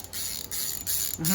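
A baitcasting fishing reel spins with a fast, fine ticking whir, steady and close, with brief pauses in between.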